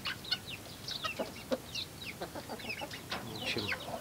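Young chicks and hens pecking at cabbage near a wire mesh pen, with soft clucks and high chirps scattered irregularly throughout, fairly close but faint, with no talk over them.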